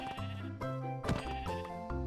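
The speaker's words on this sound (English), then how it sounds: "Come here, sheep." Several close sheep bleats in a video game, a run of wavering nasal calls in quick succession with short gaps, fairly loud and alone.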